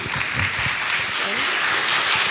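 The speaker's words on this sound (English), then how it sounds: "everyone please give an applause" A seminar audience at an international library event breaks into dense, steady applause that fills the room continuously, with a voice faintly underneath.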